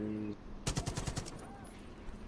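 Rapid automatic gunfire in the video game Far Cry 5, a quick burst of about eight shots in fast rhythm after a brief voice, then fading into background noise.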